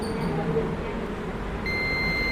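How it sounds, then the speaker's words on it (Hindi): A multimeter in continuity mode beeps as its probes touch a transformer's coil pins, giving a steady, fairly faint tone that starts late and holds to the end over a low background hum. "इधर जो कॉइल है, ये देखो इधर चेक करूँगा, 2 पिन आपस में बीप करेगी"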